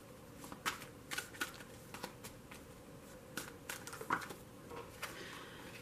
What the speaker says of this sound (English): I'm only going to shuffle it for a moment.